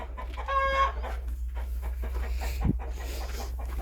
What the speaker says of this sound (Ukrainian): Ось тут лупить квочка.